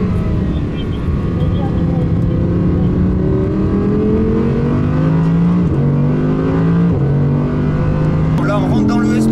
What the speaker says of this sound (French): Et ça prend des tours, c'est impressionnant. 8250 tours minute de régime maxi pour ce V10.